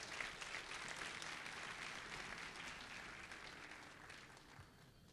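Applause from the audience at the TÜREK 2012 opening ceremony, a faint, distant, even patter of many hands that holds steady and slowly thins toward the end.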